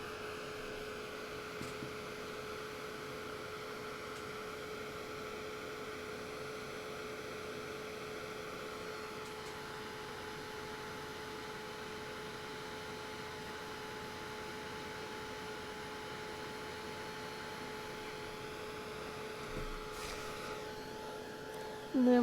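Heat tool blowing steadily to dry paint on a door sign, a constant, even whooshing drone with a faint hum throughout, without pauses.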